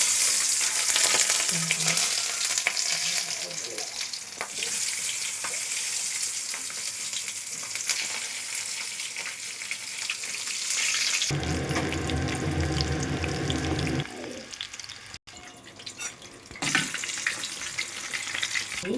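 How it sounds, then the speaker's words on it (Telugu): Stuffed capsicum frying in oil in a pan, a steady broad sizzle running throughout, loud and close, with a brief rougher, water-like stretch near the end. "ఇందులో తీసుకున్న క్యాప్సికమ్ని ఇలా ఆయిల్లో ముందుగా ఫ్రై చేసుకోవాలి"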